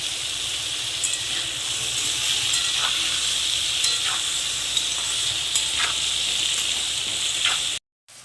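Continuous oil sizzle of fish, potato and radish frying in a pan with turmeric and salt, broken by light spatula scrapes and taps as they are stirred, with no talking.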